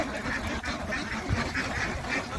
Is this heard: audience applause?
no